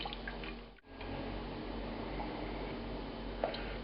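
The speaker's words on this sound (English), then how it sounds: "I'm adding that red wine in." Red wine poured into a pan heating on medium for Bordelaise sauce gives a steady, close liquid rush and hiss that runs unbroken after a brief gap at the start, with no talk.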